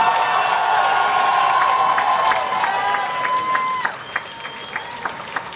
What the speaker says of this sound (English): Can I get a big round of applause for these three fine gentlemen right here?